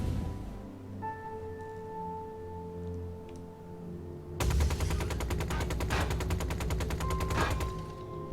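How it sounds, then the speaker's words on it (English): A rapid, continuous burst of heavy Gatling cannon fire from a ship in the game Star Citizen erupts after a quiet stretch of steady electronic humming, roaring for several seconds before easing. "That sounds like a real Gatling cannon there."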